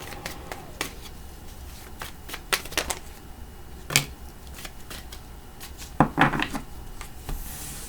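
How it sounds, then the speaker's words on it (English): Tarot cards being pulled from a deck, a scattered series of crisp snaps and papery flicks, close and moderately loud, with a quiet gap between each card. "then we're just going to pull cards from there"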